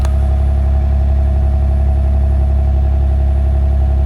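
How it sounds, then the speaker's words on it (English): A 1995 Nissan Maxima idles steadily on a cold start, a low, even exhaust drone through the muffler with a constant hum, close and uninterrupted. "Here's the sound of the muffler."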